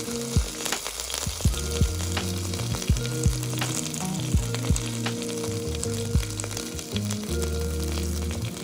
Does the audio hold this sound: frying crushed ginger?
yes